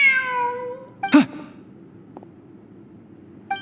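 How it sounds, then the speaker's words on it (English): A cat in the Genshin Impact video game gives one clear, drawn-out meow, followed by a brief sigh-like sound and then quiet. "Look! A cat!"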